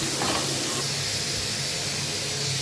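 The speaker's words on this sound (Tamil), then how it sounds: "அது இல்லாமல் இது தாளிப்புக்கு கொஞ்சம் வெங்காயம் தக்காளி இதில் சேர்க்குறேன்" Onion and tomato sizzling in hot oil for a sambar tempering, giving a steady, loud, broadband hiss that runs unbroken throughout.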